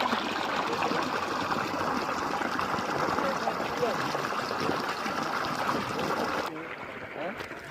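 Water gushing steadily from a solar-powered pump makes a broad, continuous rushing and splashing sound nearby. It drops off and grows quieter near the end, with a voice faintly audible under the flow.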